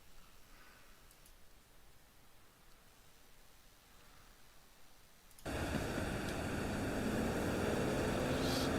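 A Spitfire's piston engine in the DCS flight simulator: a quiet, steady hum gives way partway through to a sudden loud, constant engine roar that holds to the end.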